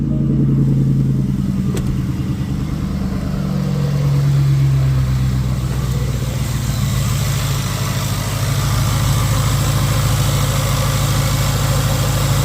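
A Range Rover L322 5.0 supercharged AJ133 V8 engine idling steadily with a working alternator, a continuous low rumble with a slight shift in pitch early on, loud and close.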